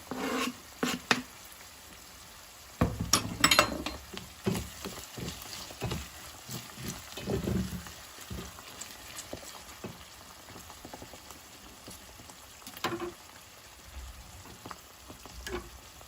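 Garlic frying with cooked onions in hot oil in a pan, a steady close sizzle with sharp stir clatters and scraping bursts, no voices.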